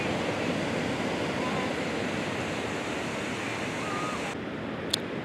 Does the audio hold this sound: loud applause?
no